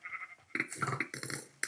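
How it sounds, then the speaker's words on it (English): Sheep in Minecraft bleat repeatedly, several short nasal cries that overlap and come close and fairly loud, with no talking. "Here's the sheep."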